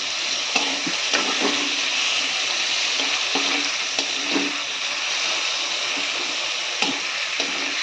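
Eggplant pieces fry and get stirred in a hot pan for a Bengali curry, giving a steady broad sizzle with soft scraping stir strokes recurring every second or so, close and even throughout.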